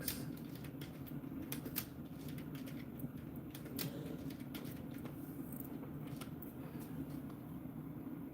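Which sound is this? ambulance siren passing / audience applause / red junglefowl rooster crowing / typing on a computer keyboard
typing on a computer keyboard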